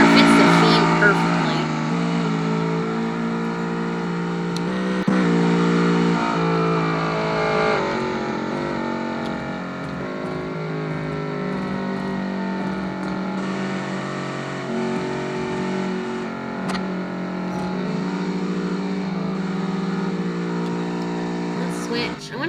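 An inline-three car engine laps Suzuka in a racing video game, with a steady tonal drone that rises and shifts pitch through gear changes, while a person talks over it throughout.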